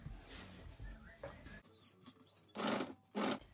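A sewing machine stitches binding onto a garment neckline in two short, loud mechanical bursts near the end, following a quieter stretch of soft handling noise.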